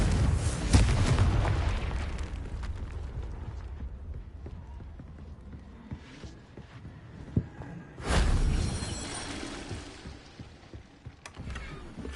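Confringo fire spell from the video game Hogwarts Legacy goes off in two heavy booming blasts, the first right at the start and a second sharp burst several seconds later, each rumbling down into quieter game ambience.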